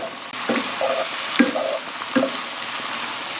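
Spiced beef mince being stirred in a pan with chilli-style seasonings including paprika and smoked malt barley, scraping strokes repeating every half second or so over a steady low sizzle, close and moderately loud, no talk.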